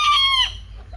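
Hen clucking close by in a backyard poultry coop with chicks, a short run of bright calls lasting about half a second, then quiet with a low background hum.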